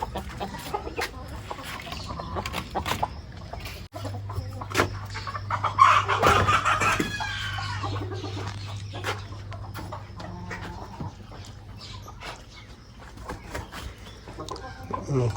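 Hens in a backyard coop clucking and squawking after laying eggs, a busy cackling chorus that swells around the middle and carries on over a low steady hum, with other birds and a dog faintly in the mix.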